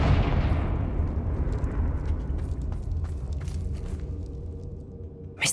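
A Confringo fire-blast spell explodes in Hogwarts Legacy, a loud booming burst that rolls into a long rumbling, crackling decay, with a fresh sharp hit right at the end.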